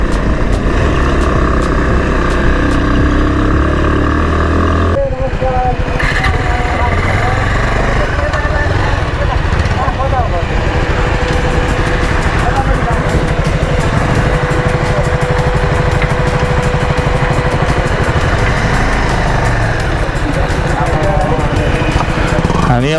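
A Kawasaki Ninja motorcycle engine runs continuously while being ridden on a rough, sloping road, loud and close throughout, its drone shifting in pitch as the rider works the throttle and wind noise rushes past.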